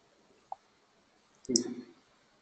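A single mouse click on a load data button: one sharp tick, then a short, louder clatter of clicking a second later, close and otherwise quiet.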